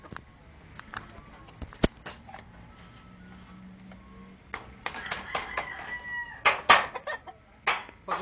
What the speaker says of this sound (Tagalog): Pagalitan mo yung mga manok.